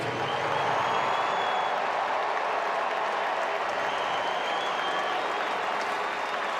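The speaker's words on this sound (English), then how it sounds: "Bo tipped his cap to the crowd when they applauded him after the video" A baseball stadium crowd at a Mets–Blue Jays game applauds Bo Bichette, a dense, steady wash of clapping and cheering that holds at full loudness throughout.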